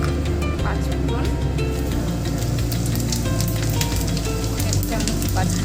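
Panch phoron spices sizzle and crackle in hot oil for a vegetarian Bengali cabbage dish, a dense, steady frying hiss close to the pan while a voice talks over it.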